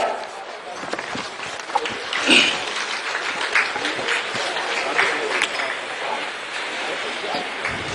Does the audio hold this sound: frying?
no